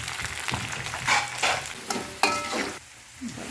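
Crushed garlic goes into a hot pan with curry leaves, giving a close, crackling sizzle broken by several sharp bursts of stirring and spattering that fade toward a quieter finish.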